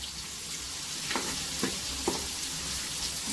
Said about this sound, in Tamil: சூப்பரா வதங்கிட்டு இருக்க வெங்காயம்.